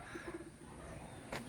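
Pigeons cooing at a residential property in Bay, Laguna, a soft low coo heard close by over steady background noise, brief and without talk.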